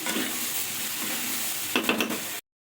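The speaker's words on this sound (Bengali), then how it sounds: "আলু সোয়াবিন আর মশলা বেশ ভালো করে এটা কষিয়ে নেব" Potato, soybean and spices stir-fried in a pan give a loud, continuous close sizzle, joined near the end by a few quick spatula scrapes before the sound cuts off abruptly.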